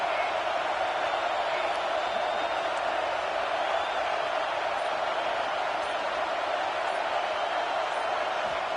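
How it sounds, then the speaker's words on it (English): College football stadium crowd at Ohio State versus Texas, roaring on a third-down defensive stand; a dense, steady wall of crowd noise holds at an even loudness throughout without clear individual voices. "Decibels rising as the crowd gets behind this defense on third down."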